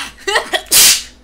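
A person sneezes once, a loud close burst after a couple of short breathy intakes, heard in a quiet room within a Resident Evil 7 horror game session.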